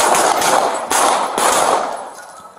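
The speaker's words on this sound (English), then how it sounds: "Shots fired, Central." Gunshots during an NYPD police exchange of gunfire with an armed robber, a few sharp loud cracks spaced under a second apart over a noisy, echoing outdoor background.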